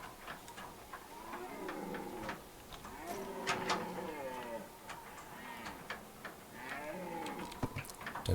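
Cow mooing in the video game The Parasite, several drawn-out, wavering moos in slow succession, fairly close, over a faint ticking background, with someone talking at times.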